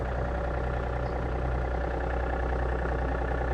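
A small Yanmar AF350 tractor engine idles steadily with a constant low rumble and chugging hum, close by and unbroken throughout.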